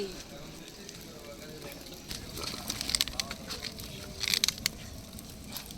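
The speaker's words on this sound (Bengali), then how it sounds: "চুলায় আগুন ধরাইতাছি।" Crackling and rustling as a fire catches in a village cooking stove, with scattered louder snaps and pops building toward the end.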